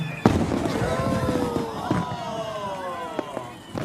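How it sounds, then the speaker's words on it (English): Fireworks burst in a sharp crack, then crackle and whistle with several further pops over a few seconds, moderately loud, with faint voices underneath. "Fireworks?"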